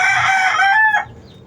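A yellow-legged hatch fighting rooster crows once, loud and close, a drawn-out harmonic call that cuts off after about a second.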